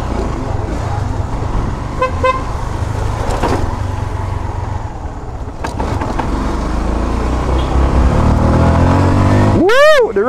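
A Jamco T 200 motorcycle, a 200cc bike with a 50 header, accelerates in second gear on a wet road, its engine roaring loudly and steadily under wind noise, with a brief horn-like toot near the end.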